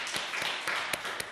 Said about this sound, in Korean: 하나님께 감사의 박수 드리겠습니다.